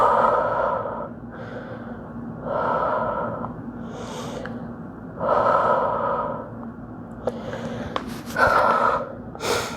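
Heavy, out-of-breath breathing after a yoga flow, loud close inhales and exhales in a slow repeating rhythm with a few sharp clicks near the end.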